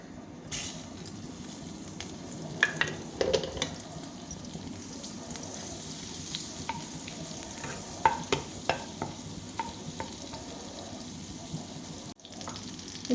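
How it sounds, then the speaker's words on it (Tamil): Butter melting in hot oil in a kadai, a faint steady sizzle close by with occasional clinks and stirring scrapes, no talk. "இப்போ அது சூடானதும் அது கூடவே பட்டர் சேர்த்துக்கலாம்."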